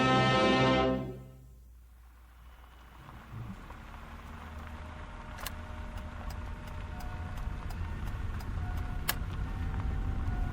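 A car drives in a radio drama, a low steady engine rumble with rain-like patter and faint ticks, settling in after a louder tonal sound fades at the start.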